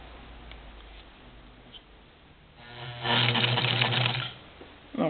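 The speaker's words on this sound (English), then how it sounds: "So we're going to make about 3 stitches." Necchi sewing machine running a short burst of a few buttonhole stitches, a steady mechanical whir rising for about a second and a half before stopping, close by with no talk.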